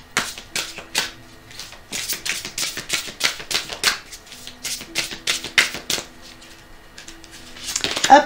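Tarot cards for a love reading are shuffled and laid down close by, a series of crisp, papery riffles and slaps in quick bursts with brief quiet gaps, no voice.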